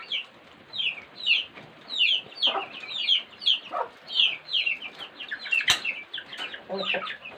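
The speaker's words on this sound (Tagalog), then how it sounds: "Yung mga alagang chicken guys, ang laki lang." Pet chickens cluck repeatedly in short, uneven bursts, several birds close by, with a sharp knock partway through and no talking.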